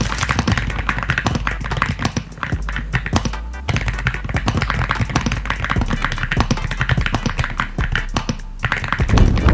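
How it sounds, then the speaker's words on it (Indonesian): Rapid typing on a stock, unmodified Aula F75 mechanical keyboard, close and crisp, with dense irregular key taps and a few brief pauses, no talking. "Itu suara bawaan dari keyboard yang nggak ada yang dimodif."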